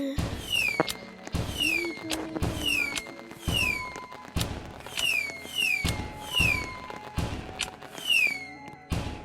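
Repeated fireworks bursts, sharp bangs followed by crackling and whistling trails, going off in a steady rhythm throughout, fairly loud and close.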